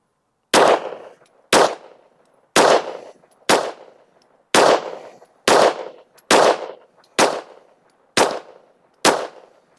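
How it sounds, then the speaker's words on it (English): Ten sharp pistol shots from a Taurus G3 Tactical, fired at an even pace about one per second, each loud close crack decaying quickly into silence before the next. "Let's shoot the top left target."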